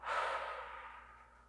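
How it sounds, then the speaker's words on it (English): A single deep exhale after a held breath during a neck and shoulder yoga session, a breathy rush that starts strong and fades gradually over about a second, heard close and alone. "and exhale."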